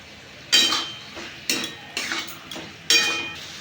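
A utensil scrapes and clinks against a pan as ground garam masala is stirred into a Bengali banana flower ghonto, four distinct stirring strokes at close range with quiet pauses between them and no talk.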